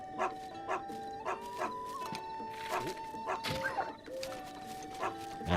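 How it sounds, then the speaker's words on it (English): Dog barking repeatedly in short bursts under a steady tonal game soundtrack, fairly close and insistent, with a voice faintly present. "What the hell is up with that dog?"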